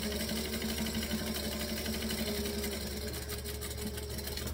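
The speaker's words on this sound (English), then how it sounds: "I'm just going to sew the long lines" Sewing machine stitching long seams hums and whirs continuously at close range, a steady motor drone with fine rapid stitching texture.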